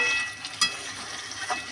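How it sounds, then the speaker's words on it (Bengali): Duck meat with potatoes and chui jhal frying in a pan, a soft steady sizzle with a couple of brief stirring clinks, close and quiet. "ভালো করে কিন্তু কষাতে হবে।"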